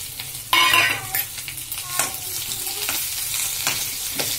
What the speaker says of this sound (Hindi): इसी में हम आलू को फोड़ लेंगे अच्छे से।